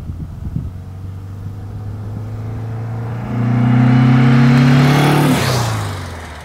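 A 1964 Porsche 356 SC Cabriolet engine hums steadily up close, then revs up into a louder, rising roar for a couple of seconds before dropping back.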